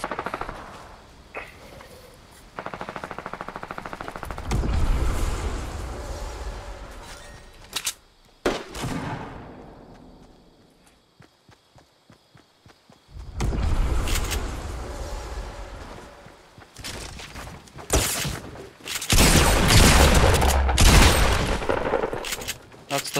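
Video game gunfire in sharp bursts and single loud shots, some sustained rapid volleys, with a quieter stretch of faint spaced pops, and a voice talking in between.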